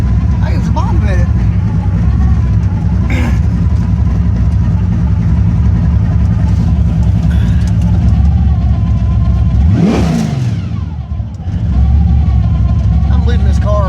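A rat rod car's engine runs loud and close, a steady rumbling idle that swells into a brief rev before settling back down.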